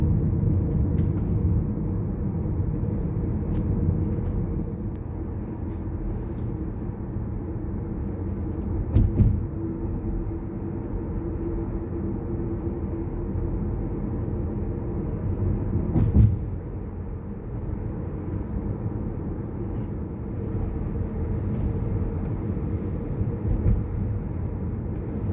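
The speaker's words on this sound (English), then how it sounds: "Now we're still riding along Highway 321 in Tennessee" A car cruises along Highway 321 in Tennessee, heard from inside as a steady low road rumble and engine hum at moderate level, with a couple of brief bumps.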